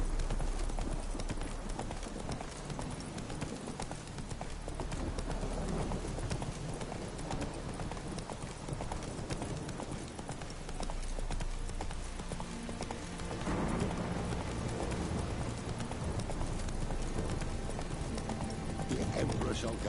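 Horse hooves clip-clop at a steady walking rhythm in The Witcher 3: Wild Hunt, carried under a dense bed of game music and ambience, with a voice speaking at times.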